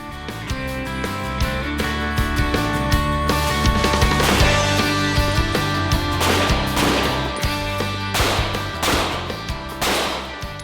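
A Springfield Armory 1911 DS Prodigy double-stack pistol fires at the Crucible Training Center range in Fredericksburg, Virginia: a rapid series of sharp, loud cracks in irregular strings, heard over background music.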